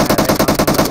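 Rapid automatic gunfire in the battle royale game PUBG Mobile, a loud, dense burst of repeated shots with a steady rhythm filling the whole second, no talking over it.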